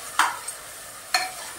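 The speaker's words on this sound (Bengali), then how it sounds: "এবার আমি নাড়াচাড়া করবো।" Fried rice with raisins is stirred in a hot pan during home Bengali cooking, heard as two short scraping swishes about a second apart over a soft background sizzle.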